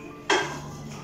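Metal kadhai (wok) set down on a gas stove in a home kitchen before preheating for baking an eggless chocolate banana cake, a single sharp clank followed by a fading metallic ring.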